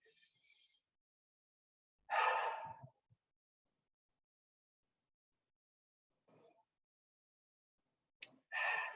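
Two slow, deep breaths drawn in and let out during a calm guided settling-in, each a soft airy rush with a long exhalation, separated by quiet pauses, close and fairly faint.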